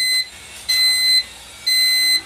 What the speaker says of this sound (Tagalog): nag-alarm man eh